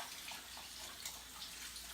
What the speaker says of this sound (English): I just kind of turn off the water.